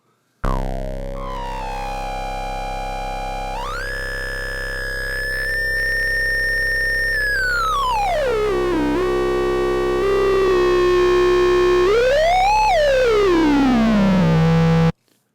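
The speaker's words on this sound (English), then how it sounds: "we're effectively creating a feedback loop that leaves filter 1 alone, and allows us to go a little crazy" A sustained synthesizer tone with gritty distortion, its pitch sweeping up, holding, then diving and rising again as the second of two filters feeds back in a loop.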